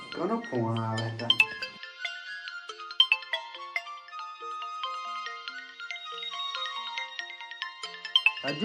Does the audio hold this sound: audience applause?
no